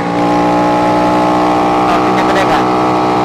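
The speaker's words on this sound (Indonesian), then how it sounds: "Nah lihat, ini tanjakan gampang banget dilibas sama si mesin ganas ini." Honda Astrea Grand 190cc motorcycle with a Daytona replica engine climbing a hill: a loud, close, steady engine drone with strong harmonics that pulls harder and rises in pitch near the end, with talk under it.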